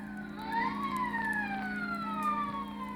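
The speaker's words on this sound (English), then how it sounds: "now and then the police whistle and the prowl car sirens serenade the sleeper." Police prowl car sirens wail as an old-time radio drama effect, several overlapping tones sweeping up and down at moderate distance over a steady low hum.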